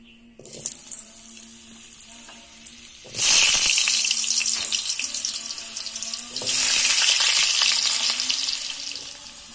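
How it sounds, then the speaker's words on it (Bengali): Potatoes hit hot oil left over from frying soybean koftas, bursting into a loud, steady sizzle after a quieter start, then swelling again partway through as more pieces go in. "আলু ভেজে নেব"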